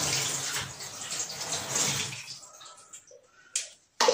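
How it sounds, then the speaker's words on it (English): A jug of water is poured over a leg in a bath, a loud splashing gush that tapers off into a few drips and small splashes, then one sharp final splash. "Just gonna grab a jug of water and literally just go straight over the leg, swill it all off."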